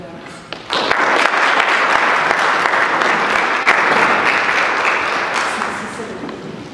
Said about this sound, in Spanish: Sin más preámbulo, les pido un aplauso